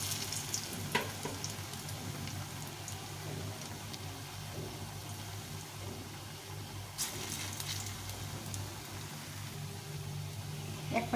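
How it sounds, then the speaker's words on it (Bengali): Masoor lentil fritters fry in hot oil, making a steady, moderately quiet sizzle that runs throughout with a few light crackles and faint background noise. "এভাবে সবগুলো ভেজে নেব।"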